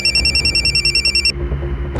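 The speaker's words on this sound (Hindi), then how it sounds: "उसी नंबर से फोन आया।" A telephone rings with an incoming call in a Crime Patrol Dastak crime drama scene, a steady electronic ringtone pulsing rapidly and loud for over a second, then cutting off into low room murmur.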